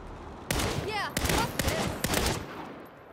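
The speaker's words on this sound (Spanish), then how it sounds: "¿Fuegos artificiales?" A rapid burst of sharp bangs and crackles from video game fireworks in Saints Row pops in quick succession, loud and close, trailing off into quieter crackling.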